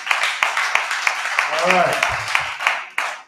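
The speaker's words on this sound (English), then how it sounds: "Let me hear the brother clap hands." Men's hand claps during a church Sunday service, a steady series of sharp claps at a moderate pace over background crowd noise and a brief spoken word.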